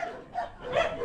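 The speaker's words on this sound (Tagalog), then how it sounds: "May aso, may aso." A dog yips and whimpers in a few short, high bursts at close range, with light background noise and no clear talk over it.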